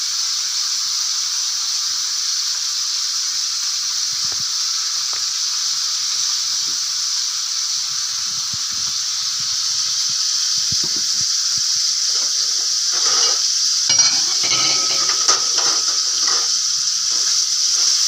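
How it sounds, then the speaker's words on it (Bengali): Potato curry fries and sizzles in a pan as it is stirred, a steady loud hiss throughout with scraping and clattering near the end, and no talking. "মা এখন রান্না করছে আলু রুটির সাথে যে আলুর তরকারি হয় সেটা মা এখন রান্না করছে"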